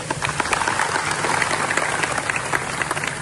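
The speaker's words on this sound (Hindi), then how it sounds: "तो सबके लिए ताली बजाए है।" An audience at a Volvo-Eicher women's plant event claps, a dense, even burst of applause that holds steady and close for a few seconds with barely any voices.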